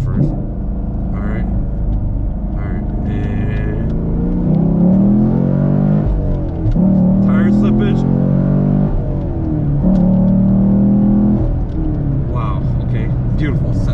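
A 2021 Chevrolet Camaro SS 1LE V8 pulls hard in first gear on a backroad, its engine roaring and rising in pitch through repeated surges, heard close from inside the cabin with someone talking over it.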